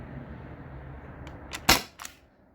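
A modified T4E HDB 68 shotgun fires at a metal pan, a sharp crack followed moments later by a smaller metallic clank, heard over quiet background hum.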